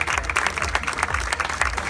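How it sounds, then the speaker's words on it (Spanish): An audience applauds at the street launch of the Cero Baches pothole-repair programme in Chicxulub Puerto, giving a steady, dense burst of clapping from a crowd, fairly loud throughout with no pauses. "El aplauso de la concurrencia."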